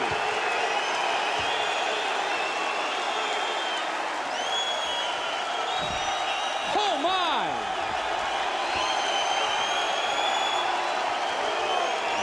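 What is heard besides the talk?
arena crowd cheering after a UFC knockout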